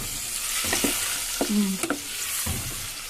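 Tomato pickle being mixed with oil, a wet, sticky stirring with scraping strokes in short bursts, fairly close and with no voices.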